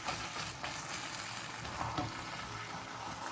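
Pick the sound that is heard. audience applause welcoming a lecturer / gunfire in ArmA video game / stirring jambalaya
stirring jambalaya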